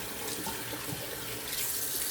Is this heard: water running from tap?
yes